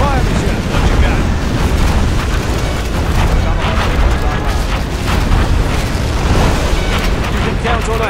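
An artillery barrage in C&C Generals Zero Hour: dense, continuous explosions rumble and pound loudly throughout, overlapped by unit voice chatter.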